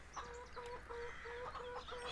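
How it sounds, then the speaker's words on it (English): Chickens on a Spring Meadow farm in Farming Simulator 17 cluck in a steady, repeating pattern of short calls, moderately loud with no talking. "So we've got our chickens here."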